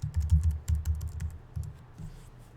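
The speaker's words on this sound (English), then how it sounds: "In this case, we're going to type in our interests." Typing on a computer keyboard, with quick irregular clusters of soft key clicks close by that thin out toward the end, no talking.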